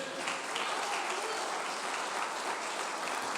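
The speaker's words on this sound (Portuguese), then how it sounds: "Bata as palmas para Ele." A church congregation claps together during a sermon, producing a continuous, even roar of applause that fills the room at moderate volume without pause.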